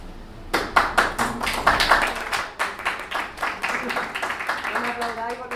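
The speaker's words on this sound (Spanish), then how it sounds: "No me aplaudáis porque estamos en familia." An audience at a talk on feminism claps, a brisk ripple of hands that thins out over several seconds, with voices speaking over the end.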